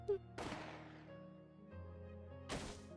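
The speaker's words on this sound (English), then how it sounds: "That had followed the dull sound of another gunshot." Two dull gunshots in the Higurashi visual novel game, each a sharp broadband blast that rings out and decays over a sustained musical drone, about two seconds apart.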